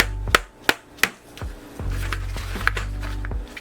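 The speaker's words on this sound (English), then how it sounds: "Take your keyboard and simply turn it upside down. And start spanking it on its bottom." An upside-down computer keyboard smacked on its underside gives a run of about eight hollow, dull thuds, close and uneven in spacing, each dying away quickly into quiet.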